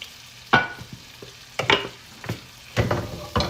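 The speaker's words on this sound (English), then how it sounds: "We're just gonna let those two sizzle and cook for a little bit." Chicken and butter sizzle in a frying pan, broken by several sharp stirring and scraping bursts at irregular intervals, close and fairly loud with no talking.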